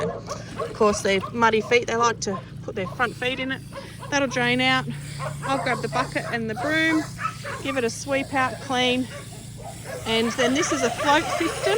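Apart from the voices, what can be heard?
dogs barking in the background on a farm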